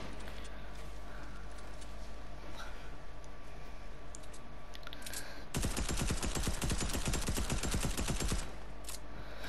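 Rapid automatic gunfire in an online shooter game, a dense burst of shots that erupts midway and rattles on for about three seconds over steady game ambience.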